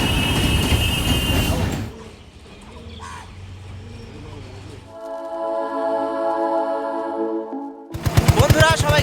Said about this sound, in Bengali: আমাদের ট্রেন চলেছে